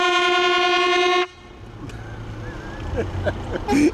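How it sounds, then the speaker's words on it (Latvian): A truck's farewell horn at a truck meet in Engure blasts one loud, steady, sustained note, then cuts off to leave quieter ambient noise with people talking in the background. "Atvadu taures, visi te taurē."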